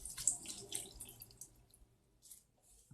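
Faint water drips and trickles fall from a synthetic wig being squeezed out, several soft irregular drops and splashes in a quiet room.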